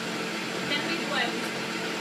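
A Vitamix blender blends a green smoothie, a continuous broadband whirring roar, steady and fairly muffled throughout, with a voice speaking briefly over it.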